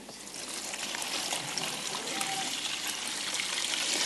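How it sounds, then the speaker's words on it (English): Water pours steadily into a box being filled, a continuous trickling, splashing stream that holds at an even level throughout with no voices. "I'm going to fill this box up with water."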